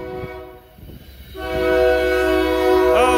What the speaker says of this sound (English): These train tracks must curve somewhere. And of course the standard horn that they never stop.